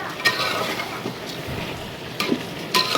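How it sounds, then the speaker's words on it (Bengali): Rice is stir-fried with vegetables in a pan, a steady close sizzle broken by a few sharp scrapes and clinks of the spatula. "একটু 6 মিনিট ধরে চাউলটা সুন্দর মতো একটু ভুনা করে নিব"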